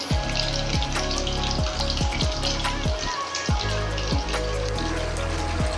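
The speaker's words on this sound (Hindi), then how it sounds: "ये देखें कितनी अच्छे से फ्राई हो रही है ये हमारी" Chicken wings deep frying in hot oil, a steady dense crackle and sizzle that runs unbroken the whole time, close and fairly loud, with a few louder pops and no talking.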